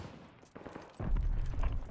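STG44 assault rifle fire in the shooter video game Call of Duty Vanguard: a short, dense automatic burst thumps in after a few scattered distant shots, close and heavy in the low end.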